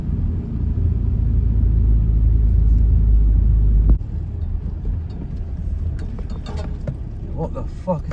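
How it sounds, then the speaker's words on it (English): A car turning around in a car park at night during a thunderstorm, with a heavy low rumble that drops off abruptly midway, followed by quieter movement and clicks nearby, with a voice speaking. "That car behind me has just turned around now."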